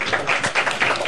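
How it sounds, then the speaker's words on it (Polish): Audience applause after a film screening, a steady wash of many hands clapping together, close and fairly loud throughout the short moment with no talk over it. "oklaski"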